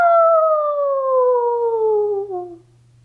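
A single human voice imitates a wolf, giving one long howl that glides smoothly downward in pitch and fades out after about two and a half seconds, close and clear.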